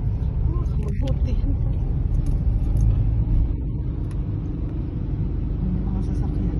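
Cars on a snowy, icy residential street in winter produce a continuous low rumble of engines and tires, with a voice speaking over it.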